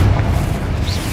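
A blasting spell detonates in a fantasy wizarding game, a deep booming explosion with a rumbling low-end tail that fills the short moment.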